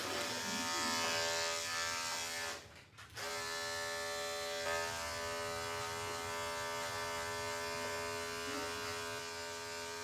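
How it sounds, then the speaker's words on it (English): Andis 5-speed dog clippers fitted with a 40 blade trimming a dog's paw pads, a steady close electric buzz running throughout with one brief dip partway, no talking. "I'm using a 40 blade. I'm using an Andis 5-speed for his pads."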